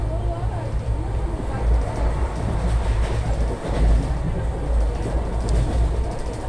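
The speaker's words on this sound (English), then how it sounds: "This is other train." An express train speeds past without stopping, heard from aboard another train on a Madurai trip: a dense, steady roar of wheels and rushing air with low rumble throughout.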